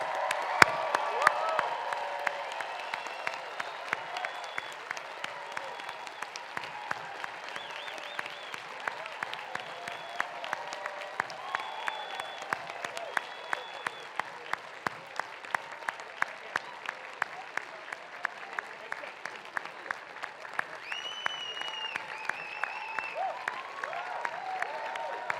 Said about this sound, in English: let's have a big final round of applause for the Stanford GSB class of